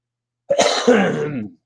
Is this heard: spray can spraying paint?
no